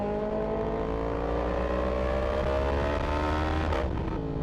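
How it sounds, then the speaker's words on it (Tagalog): A Yamaha MT-10 motorcycle engine drones steadily while riding on the road, a loud, continuous hum that rises slightly in pitch and shifts briefly near the end, with no talking. "Lakas nitong MT-10."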